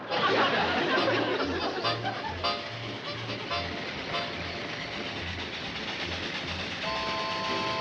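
A train rolls away with rhythmic clickety-clack from the rail cars, steady and moderately loud, with faint background chatter and laughter mixed in.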